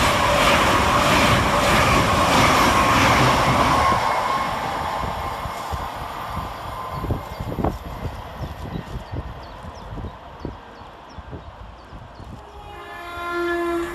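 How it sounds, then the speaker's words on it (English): An LNER class 801 train runs through Adwick station on a Leeds to London King's Cross service. A loud broadband roar fills the first few seconds, then eases into rumbling and clattering as it moves away, with no voices. "Flying in the opposite direction for LNER is 801201, working 1A37 from Leeds to London King's Cross."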